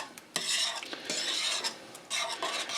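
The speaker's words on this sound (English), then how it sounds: "that looks pretty well whisked together" Whisk stirring tomato paste into beef stroganoff sauce in a pot, a steady close wet scraping swish with a few short pauses and small knocks against the pan.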